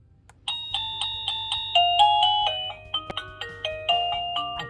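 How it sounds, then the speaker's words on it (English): A small electronic doorbell triggered by a remote control plays a bright chiming melody of repeated two-note tones, loud and close, with no voices. "I have a little electronic doorbell and I have a remote control that I'll press"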